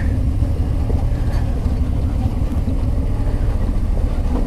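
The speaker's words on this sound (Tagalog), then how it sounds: "Buti na lang may engine brake siya. Kahit automatic yung ATV." Automatic ATV engine braking on a steep downhill trail at an adventure camp, a loud low rumbling drone that holds steady close by, with faint voices in the background.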